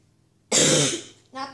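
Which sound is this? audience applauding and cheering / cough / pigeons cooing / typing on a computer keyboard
cough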